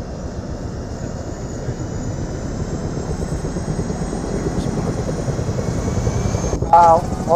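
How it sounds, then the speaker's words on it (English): A helicopter drones steadily in the ArmA 3 combat video game, a constant loud rotor and engine rumble with rhythmic thumping throughout, and a voice speaks briefly near the end. "let me turn off the helicopter audio"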